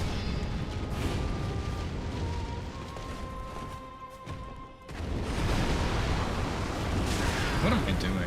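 Explosions from a boss's second phase in a video game: loud, sustained rumbling blasts with faint tones running through, a brief lull near the middle, then a fresh, heavy burst that carries on.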